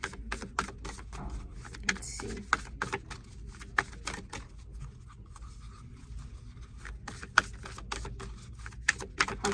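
Close, crisp flicks and taps of tarot cards being shuffled by hand, irregular bursts of sharp snaps with brief pauses, and a soft voice murmuring briefly.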